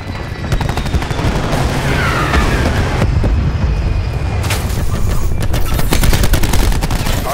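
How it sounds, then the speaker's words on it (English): Heavy, continuous rapid-fire strafing run from a Warthog aircraft in Call of Duty Black Ops 4, a loud unbroken rattle of gunfire with dense booming impacts over several seconds. "Crash requesting Warthog strafing run."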